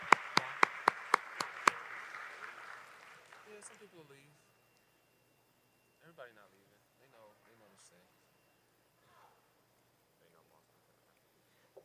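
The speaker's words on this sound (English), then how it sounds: "Let's give the panel another round of applause for a great" Brief burst of audience applause for a panel at the closing plenary session of the NAACP 113th annual convention, about two seconds of sharp claps fading out, followed by scattered speech in a large hall.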